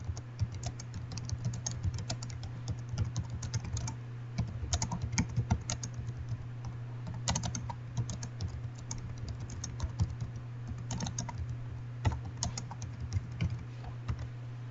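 Steady typing on a computer keyboard while entering comments, quiet irregular key clicks in bursts over a low background hum.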